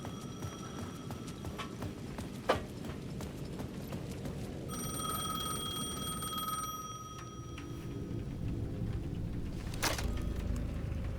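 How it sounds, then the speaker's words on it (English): A payphone in the video game Alan Wake 2 rings with a bright, electronic bell tone for a couple of seconds amid soft clopping steps and low ambient noise. "The payphone at the edge of the plaza was ringing again."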